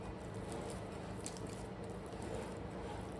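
Soft, close squishing and pinching of wet sourdough dough by hand in a bowl, faint continuous sticky squelches with no talking.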